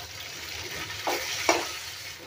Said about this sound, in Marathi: आता हा टोमॅटो घेतलाय ना तो टाकून घेते आणि थोडी कोथिंबीर टाकते